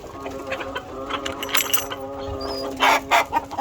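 Egg-laying farm hens feeding on vines outdoors give soft, repeated clucks and short calls at close range, a small flock murmuring steadily with a few sharper notes.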